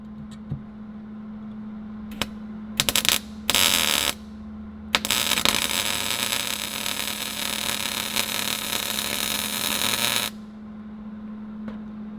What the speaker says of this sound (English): laying the beads with the MIG welder